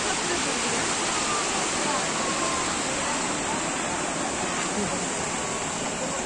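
Sea waves at Udaipur beach near Digha surge in a loud, continuous broadband roar of surf, steady throughout with no breaks or distinct crashes.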